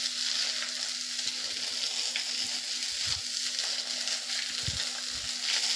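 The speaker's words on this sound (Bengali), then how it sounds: "দেখুন কাজু কিশমিশ দিয়ে ভালো করে একটু নেড়ে চেড়ে ভেজে নেব।" Cashews and raisins fry in a pan for Bengali semolina pulao, a steady soft sizzle with occasional low stirring bumps and scrapes, moderately close, with no talking.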